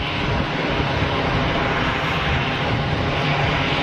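Steady, loud broadband roar of aircraft engines at Geneva Airport, constant throughout with no pause, like a jet taxiing or passing nearby without any voices.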